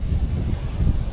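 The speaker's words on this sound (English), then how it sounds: "There's still a good breeze with a few good gusts." Wind gusts buffet through a hazel coppice woodland, a low rumbling rush pressing close against the microphone with uneven swells.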